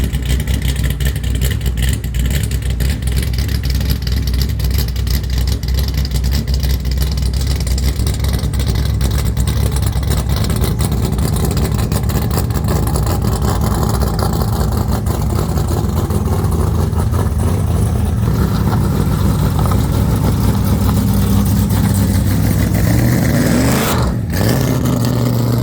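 A car engine revs hard inside a shed, a loud, continuous roar that holds steady and swells toward the end, with no voices over it.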